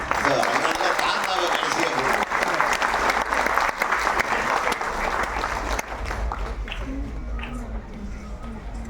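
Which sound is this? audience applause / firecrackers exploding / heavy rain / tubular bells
audience applause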